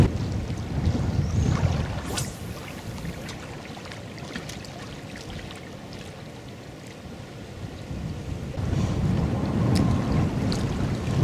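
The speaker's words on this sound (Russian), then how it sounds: "Ветер северо-запад, довольно сильный, очень некомфортно" Strong northwest wind roars and buffets the microphone in gusts beside a small pond in February, loudest at the start and end, with no voices.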